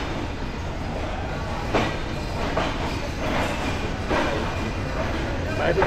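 The Padma Express passenger train from Dhaka to Rajshahi passes at night, a continuous nearby rumble with rhythmic clickety-clack wheel beats and a few louder surges.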